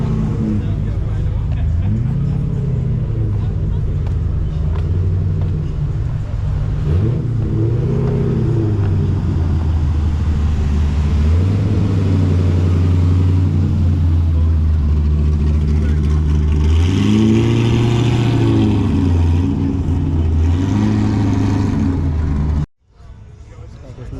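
A Dodge Hellcat's engine rumbles and revs at a big car meet, a loud, deep, close exhaust note that rises and falls in several surges before cutting off abruptly.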